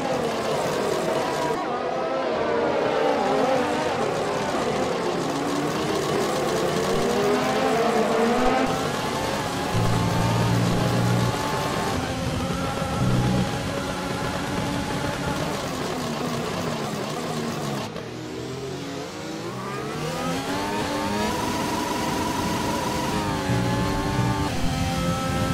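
Sim-racing cars in an F1 video game race in China at full throttle, their engines whining and rising in pitch through gear changes. A Spanish commentator talks continuously over the steady, loud engine roar.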